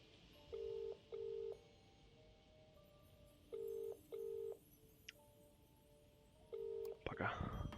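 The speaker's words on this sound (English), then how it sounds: "let's see if my boss can take my phone call yet" Phone dialing in the video game Contradiction: a sequence of clear, evenly spaced touch-tone beeps in pairs, fairly quiet against a low hum, ending in a brief crackly burst.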